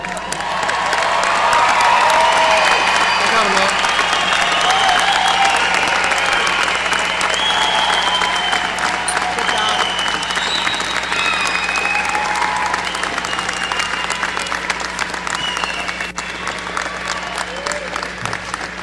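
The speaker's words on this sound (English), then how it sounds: "Let's give them a round of applause." A large commencement crowd applauds the new graduates after the tassel turning, a long, loud wash of clapping with scattered cheers and whoops running steadily for nearly twenty seconds over a faint low hum.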